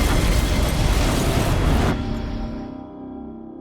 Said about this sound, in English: the Boeing 727 is ripped apart by a massive explosion